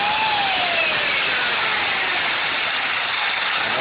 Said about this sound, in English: also use a chainsaw to roughen the area up and give it some texture.